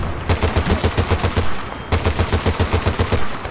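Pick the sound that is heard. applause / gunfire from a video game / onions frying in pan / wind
gunfire from a video game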